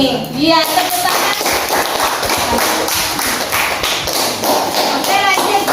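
Children clap their hands in a classroom during a teacher-led group activity, a dense run of fast, overlapping claps that carries on steadily, with children's voices mixed in.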